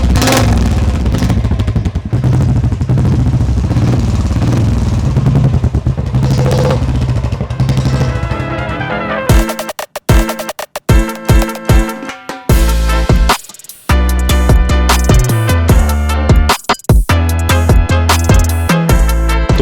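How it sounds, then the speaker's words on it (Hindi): Royal Enfield Bullet motorcycle exhaust at a motor shop, a loud steady engine note at first, then sharp repeated revs and throttle blips with brief cuts in between, close and alone. "अब रॉयल एनफील्ड के लोग दीवाने हैं, लेकिन उससे भी ज़्यादा दीवाने हैं उसकी आवाज़ के"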